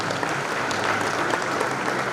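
Steady, full clapping from a hotel dinner crowd at a women's soccer league event, a continuous wash of hands close and loud for the whole stretch, with no talk over it.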